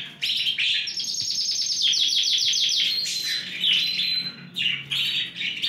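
Three Yorkshire canaries, ring 20 and large, sing in a cage, a loud, close, continuous stream of rapid trilling chirps and rolling warbles that runs for several seconds with short pauses near the end.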